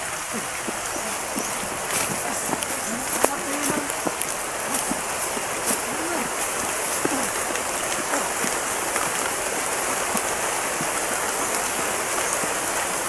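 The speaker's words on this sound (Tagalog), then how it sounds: "Malakas ang ulan dito." Heavy rain pours down steadily, a dense hiss of drops striking surfaces with sharper nearby splatters, a voice speaking faintly beneath it.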